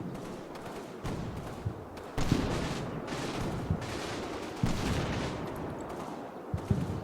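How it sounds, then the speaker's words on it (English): M1 Garand and BAR rifle fire in a World War II video game, a string of distant cracks and thumps scattered irregularly over a constant rumbling battlefield backdrop, no voices. "That looks like Garand and Bar fire to me."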